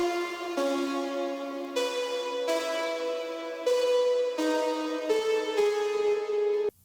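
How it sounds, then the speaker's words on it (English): A bright saw-wave synth lead layered with white noise, in an STMPD-style electronic dance track, plays a loud, sustained melody of about nine held notes, each changing every half second or so, heard alone until it cuts off abruptly. "Up next, we have the main lead, which sounds like this."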